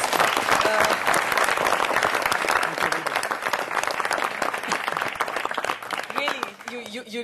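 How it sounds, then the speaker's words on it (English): Sustained applause from a large audience greeting an Oscar-winning sound mixer at an evening event, dense steady clapping filling the room for several seconds and thinning slightly toward the end. "First, just a big round of applause."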